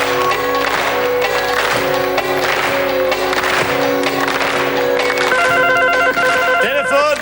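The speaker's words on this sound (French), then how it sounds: "Téléphone. Ah, il a sonné là." A telephone rings in a French television game show studio, its tone ringing out over background studio noise and chatter.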